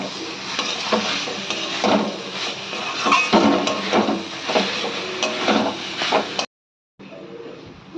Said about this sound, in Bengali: ধনেপাতা কুচি দেওয়ার পরে ভালো করে মিশিয়ে নিতে হবে মোচার সঙ্গে